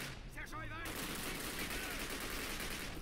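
A G42 machine gun fires in the video game Call of Duty as a dense, continuous burst of rapid shots. A brief muffled sound comes just before the sustained fire, which stays steady and fairly faint.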